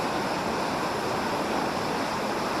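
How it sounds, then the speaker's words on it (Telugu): Fast, heavy river water rushing through opened dam gates, a steady broadband roar that fills the whole clip without a break, close and loud with no voices. "నీళ్ళైతే బాగా ఎక్కువగానే ప్రవహిస్తున్నాయి రెండు మూడు గేట్లు కూడా ఎత్తేస్తున్నారు"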